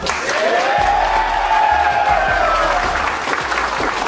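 Loud, continuous clapping from a crowd at a high school football pep event fills the scene, with a whistle rising and falling over it and a few voices mixed in.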